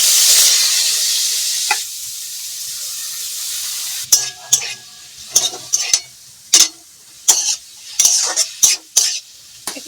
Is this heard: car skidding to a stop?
no